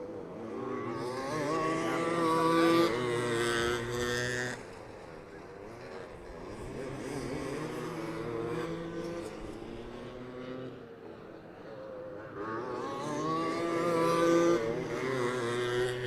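Several small oval-track racing kart engines whine and rev continuously at mid distance at Perris Auto Speedway, the pitch rising and falling as the karts circle the track.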